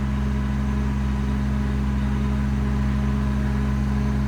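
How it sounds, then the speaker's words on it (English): A Kubota diesel running on a 2019 Kenworth T370 mechanics truck with an Adkins service body. The engine idles in a close, loud, constant low hum with no change in pitch. "it is a Kubota diesel"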